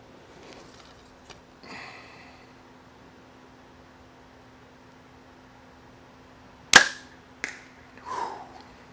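A Hoyt compound bow shot once, a single sharp, loud crack in an otherwise quiet space, followed by a shorter secondary snap and a brief rustle, after a few faint handling noises.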